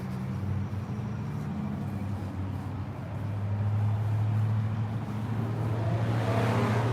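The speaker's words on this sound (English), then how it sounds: "There's a loud stalker car right now." A loud car drives past outside a building, its low engine rumble building steadily and staying strong near the end of the seven seconds.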